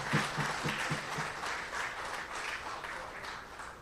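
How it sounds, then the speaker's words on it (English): An audience at a political party town hall meeting gives a round of applause, dense, even clapping from many hands held at moderate level throughout. "Give them a round of applause."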